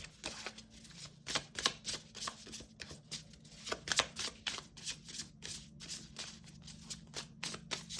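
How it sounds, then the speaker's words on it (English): Tarot cards are shuffled over and over in quick, crisp riffles and taps, close and fairly quiet, in an uneven rhythm. "Sometimes I shuffle for a really long time, and I know when I'm done shuffling."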